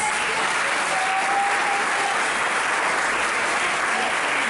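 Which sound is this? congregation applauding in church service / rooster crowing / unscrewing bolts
congregation applauding in church service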